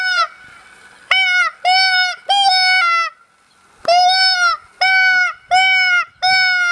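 A Point Blank Crybaby deer call imitates a fawn in distress: loud, urgent, wavering bleats in quick repeated bursts, some run together, with brief gaps between them.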